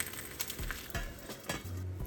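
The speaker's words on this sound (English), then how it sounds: "While that cooks, I'll make a fried egg." An egg fries in a pan on a home stove while making a Japanese breakfast, giving a steady close sizzle with a few soft scraping and tapping sounds from the pan.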